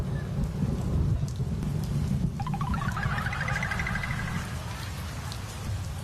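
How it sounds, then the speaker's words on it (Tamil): Steady rain pours down hard, giving a dense, loud hiss that holds for the whole stretch, with a brief higher electronic chirping tone rising and fading over it partway through. "மழை வருதுப்பா."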